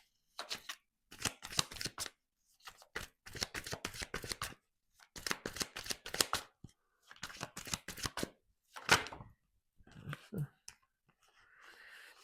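Close, brisk riffling of a tarot deck in repeated short bursts separated by brief pauses, ending with a few faint handling sounds.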